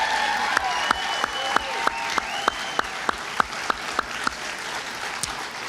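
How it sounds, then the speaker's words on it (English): An award-ceremony audience applauds its honorees with scattered claps, including a series of sharp, evenly spaced loud claps close by, over a softer background of clapping and faint crowd noise. "One more round of applause on behalf of all 17 of our honorees"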